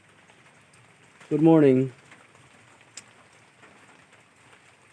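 Steady rain falls around a shelter in rural Catigbian, Bohol, a constant soft hiss throughout with a single sharp drip near the end; a person briefly speaks a greeting over it.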